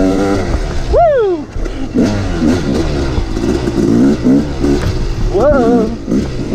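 Motorcycle engines rev and whine in rising sweeps at a race start, loud and close, with shouting voices and cheers mixed in over continuous engine rumble.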